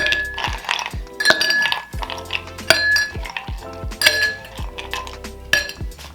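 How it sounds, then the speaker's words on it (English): Ice cubes clinking and clattering into a tall Collins glass, a series of bright, sharp glassy knocks scattered over several seconds, close and clear with no talking. "So let's get some ice here."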